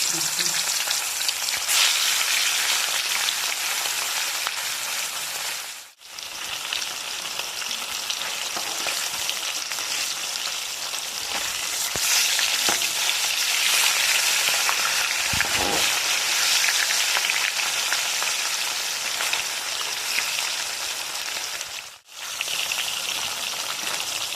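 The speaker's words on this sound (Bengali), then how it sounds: "তেল আমার গরম হয়ে গেছে মাছগুলো আমি ভেজে" Pieces of catla fish fry in hot mustard oil with a loud, dense, continuous sizzle and crackle, close up, broken by two brief dips.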